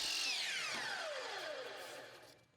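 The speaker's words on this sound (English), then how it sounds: "To begin the installation, I cut a 45-degree miter on the end of one molding section." A miter saw cuts a 45-degree miter through a foam crown molding section, giving a loud, continuous whine that falls steadily in pitch over a couple of seconds as the blade runs down. No voices.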